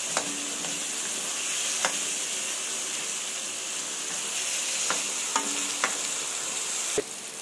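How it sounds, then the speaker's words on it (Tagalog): Tomatoes sautéing in a pan for ampalaya with hotdog, a steady close sizzle and hiss running throughout with a few brief clinks of a spatula stirring against the pan. "Alantahin muna natin ng kunti ang ating kamatis bago natin ilalagay muli ang ating"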